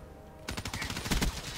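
Rapid automatic gunfire bursts in Black Ops 3 on the Rupture map, starting abruptly after a quiet lead-in and continuing as loud, dense rattling volleys with heavy low thuds.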